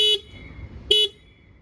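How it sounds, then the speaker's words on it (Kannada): The horn on a Simple One electric scooter gives two short, close, bright beeps a little under a second apart, with quiet background between them. "ಹಾರನ್ ಸೌಂಡ್ ಯಾವ ರೀತಿ ಇದೆ ಕೇಳೋಣ."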